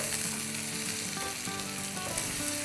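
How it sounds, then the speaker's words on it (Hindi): Chicken sizzles hard in hot oil over a high flame for a biryani, a loud steady crackle filling the whole stretch with faint stirring scrapes and no talk. "और अब इसमें हम डाल देंगे हमारी चिकन। फ्लेम हमारी हाई है।"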